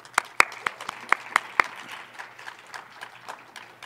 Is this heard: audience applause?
yes